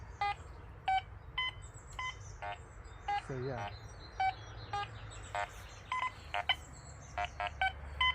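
A Quest X10 Pro metal detector gives short, regular electronic target beeps as its coil swings slowly over a large buried target outdoors, with someone speaking quietly in between.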